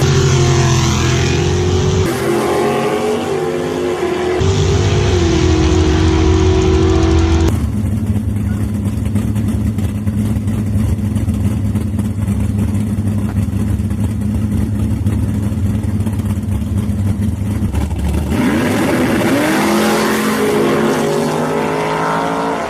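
Dragster race cars at a Grand Bend drag strip, two identical-looking cars, roar as loud, continuous engine noise with shifting tones and a sharp change partway through, filling the whole stretch without talk.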